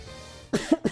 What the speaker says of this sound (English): Just trying to get like that congestion out of my system, like coughing it out.